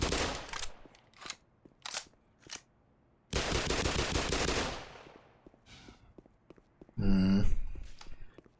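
Pistol fire from an ally in the shooter Black Mesa, several separate sharp shots spaced apart, followed by a longer burst of noisy gunfire and a loud final blast, with game sounds between.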